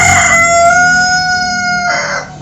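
A rooster crows once, loud and close, a single drawn-out cock-a-doodle-doo with a clear tonal call that rises and fades after about two seconds, heard alone.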